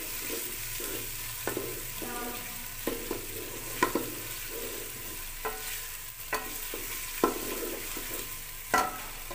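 Food fries in a pan while being stirred, a steady sizzle under repeated scraping strokes of a spoon against the pan at a slow, irregular rhythm, with no talk.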